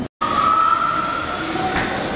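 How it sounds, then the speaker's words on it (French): A small metro train in Lille rolls along steadily, its running rumble joined by a thin, sustained whine that fades, heard close and continuous after a brief cut at the start. "je suis une touriste qui filme le métro"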